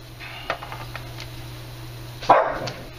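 Boston Terriers barking indoors, a few short sharp barks scattered across a steady low hum, the loudest burst near the end, with no talking.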